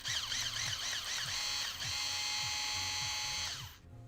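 A power drill runs in reverse, backing screws out of an ASUS ROG GL502V laptop with a whirring, wavering whine. A quieter pulsing rhythm sits underneath, and the whine cuts off sharply near the end.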